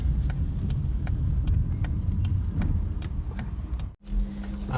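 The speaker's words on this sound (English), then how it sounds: "all have observed the car is going very smooth in the third gear also" A Honda City ZX GXi car runs smoothly in third gear after engine decarbonization, its steady engine and road rumble continuous and close, with regular faint ticking clicks throughout and a brief dropout near the end.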